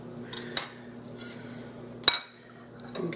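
A metal spatula clinks against a baking pan while cutting into cinnamon coffee cake, three sharp distinct taps spaced apart over a quiet background.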